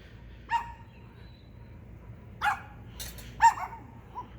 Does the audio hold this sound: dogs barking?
yes